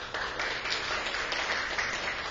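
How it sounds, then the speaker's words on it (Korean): An audience applauding at the opening ceremony of a citizens' college course, a steady patter of many hands clapping in an indoor hall, moderately loud and continuous throughout. "감사의 박수 부탁드립니다."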